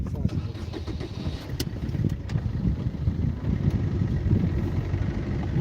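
A car engine starts and then runs with a dense, steady rumble close by, while voices speak over it on a dry hillside.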